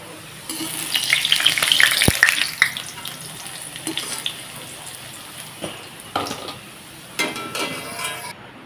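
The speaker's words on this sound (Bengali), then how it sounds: "আলুগুলো কিন্তু খুব সুন্দরভাবে ভেজে নিচ্ছি লাল লাল করে" Potatoes fry in hot oil in a pan for a vegetarian paneer and potato curry, giving a close, steady sizzle with stirring scrapes and a sharp clink, while the hiss gradually fades.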